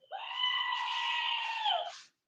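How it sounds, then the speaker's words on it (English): A goat scream sound effect: one loud, sustained bleating yell lasting about two seconds, harmonic and strained, alone with no talking. "I'm going to give you 2 screaming goats."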